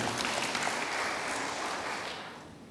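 Congregation applause during an online church worship service, a dense, steady wash of many hands clapping together that stays loud and then tapers off toward the end.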